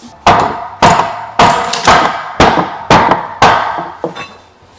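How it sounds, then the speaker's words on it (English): Seven loud, sharp hammer blows strike a wooden kitchen frame during demolition at a steady, roughly one-per-second pace, each with a short woody ring, close up and with no talking. "When in doubt, hammer it out."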